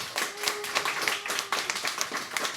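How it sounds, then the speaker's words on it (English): A small group claps at a steady, moderate pace at a Marvel Snap tournament, sounding like applause from a handful of people. "give a round of applause"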